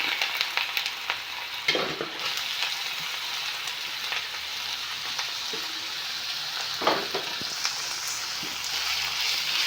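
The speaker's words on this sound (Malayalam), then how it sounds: "എണ്ണ ചൂടാവുമ്പോൾ ഇഞ്ചി ഇട്ട് കൊടുക്കാം" Steady sizzling of ginger frying in hot coconut oil, a continuous crackle with a few clinks of a stirring utensil.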